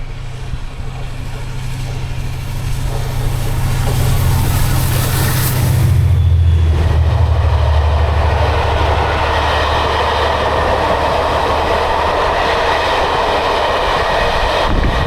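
The Blue Peter steam locomotive passing with a diesel at the back, a heavy low rumble building and peaking midway, then a long rolling wash of wagons fading, with brief talking.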